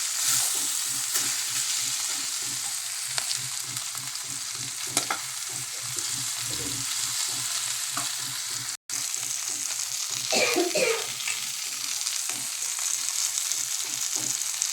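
Tamarind fries in a pan for a ridge gourd peel chutney, giving a steady, close sizzle with occasional scraping stirs and a few louder sputters.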